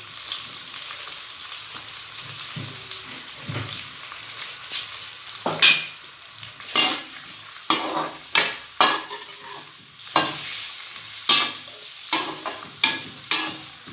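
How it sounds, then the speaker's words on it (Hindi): Onions fry in oil over a high flame with a constant close hiss. In the second half, a series of sharp, rhythmic scraping and clattering strokes from stirring in the pan breaks through the hiss. "अब हम इसमें ये प्याज फ्राई करेंगे।"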